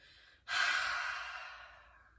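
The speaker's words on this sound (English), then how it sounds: "Open mouth, exhale, release, let it go." A single long open-mouth exhale at the close of a yoga session, starting abruptly and fading gradually over about two seconds, close and clear with no talking.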